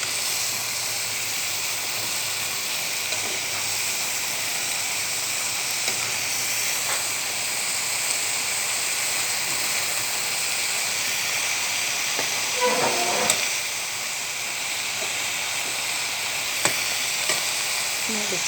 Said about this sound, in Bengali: এখন কিছু নেড়ে চেড়ে দেবো।